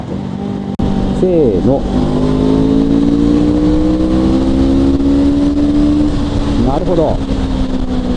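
A Honda CL500 motorcycle engine accelerating in third gear at highway speed, a steady rising drone that climbs continuously under wind rush, with brief spoken remarks from the rider.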